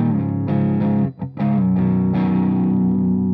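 A thick, distorted chord on electric guitar, with the fifth below and major third above, rings out, is briefly cut off, then struck again and sustained loudly.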